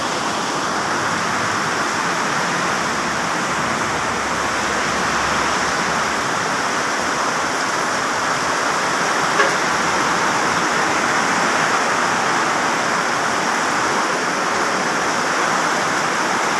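Water gushes out through a small hole in a loud, steady, unbroken rush that keeps an even level throughout, with no voices.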